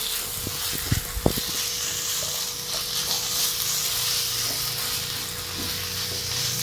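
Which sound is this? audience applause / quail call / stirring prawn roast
stirring prawn roast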